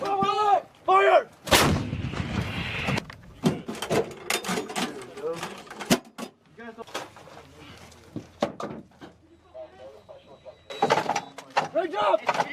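Artillery guns fire during the Cobra Gold 2020 military exercise, delivering a sharp, powerful blast followed by several more reports and clanking breech noises, with shouted commands in between.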